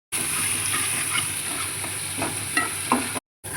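Spices sizzling in hot oil in a pan while cooking a quick potato, brinjal and bean curry with small pond fish, a steady close frying hiss with occasional stirring scrapes, then a sudden cut to silence near the end.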